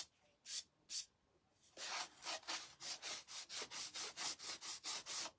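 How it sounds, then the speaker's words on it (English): A small Gator power sander works the edges of a wooden craft piece with rhythmic rasping strokes, a few spaced passes and then a quick steady run of about fifteen, faint and with no talking. "So now I'm going to take my little Gator sander. I'm going to go around my edges."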